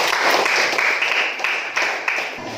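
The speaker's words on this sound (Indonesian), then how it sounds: "tangan untuk kelompok 2 biar semangat." Students in a classroom clap together for the second presenting group, a brief dense round of applause that holds steady for a couple of seconds before tapering off.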